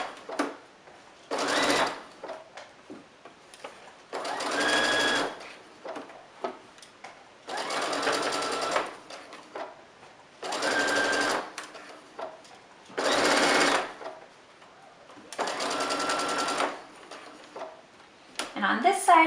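Domestic sewing machine stitching across the bottom of a fabric face mask in short, evenly spaced bursts of rapid whirring, with quiet pauses between runs.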